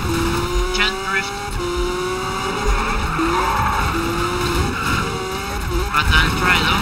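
A Lamborghini drifts in the Need for Speed racing game, tires squealing in repeated drawn-out bursts over a steady engine roar, with a voice talking over it.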